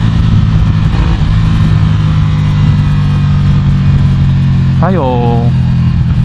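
A Ducati Scrambler Café Racer, rated at 75 horsepower, holds a steady, loud engine drone in second gear on a mountain road, with a voice talking over it throughout.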